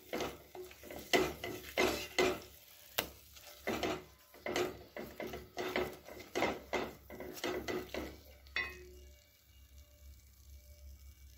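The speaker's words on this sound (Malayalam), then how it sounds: "അപ്പോൾ ഇനിയും കൂടി നെയ്യ് തെളിഞ്ഞ് വരുന്നവരെ നമുക്കിത് ഇളക്കിക്കൊണ്ടിരിക്കണം" Pumpkin halva cooking in ghee is stirred steadily in a pan, a rhythmic series of scraping, rubbing strokes about twice a second, close and clear, easing into a softer, quieter sizzle near the end.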